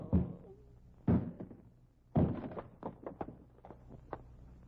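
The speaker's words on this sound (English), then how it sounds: "Open the door and break in." A door being forced open during a police break-in: heavy, close thuds and bangs land in a few separate blows, each followed by rattling knocks and smaller impacts.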